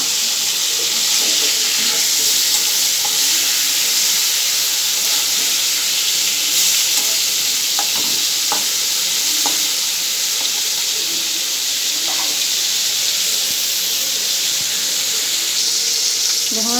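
Fresh river fish fry in hot oil in a pan, giving a loud, steady sizzle with occasional clicks and scrapes as the pieces are turned over, alongside a running-water hiss; close and continuous, no talk.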